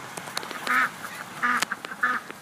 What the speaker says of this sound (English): The duck's getting all excited.